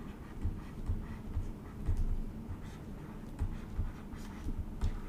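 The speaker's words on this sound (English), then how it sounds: "So let me write down" A pen scratches out an equation during a math lesson, with rhythmic short strokes and taps repeating close by at a quiet, steady level.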